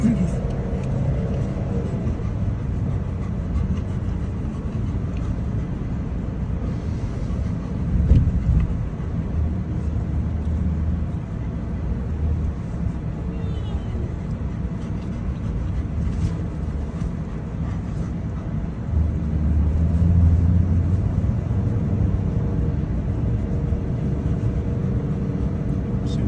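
A Ford Maverick AWD FX4 drives across open sand dunes at Oceano Dunes, its engine and tires making a steady low rumble throughout, with a brief surge near the end and people talking over it.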